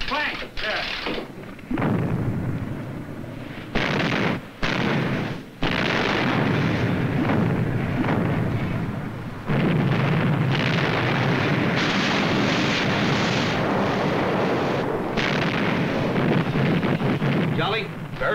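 Naval gunfire from a destroyer's 5-inch guns, heard as sustained dense roaring blasts and rumbling barrage over about eighteen seconds, with brief gaps, while voices call out amid the din.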